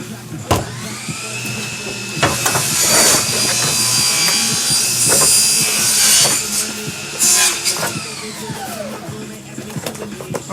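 An angle grinder cuts into the corner of a deck board nearby in repeated bursts, the whine rising and dropping as the disc bites, with brief pauses between passes.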